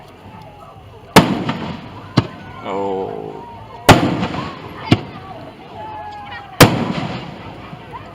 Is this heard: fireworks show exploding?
yes